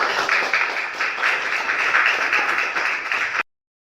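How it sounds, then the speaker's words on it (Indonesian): An audience applauds at a school teachers' presentation event. The clapping is dense and steady for over three seconds, then cuts off abruptly. "Sekali lagi tepukan untuk Mas Bro"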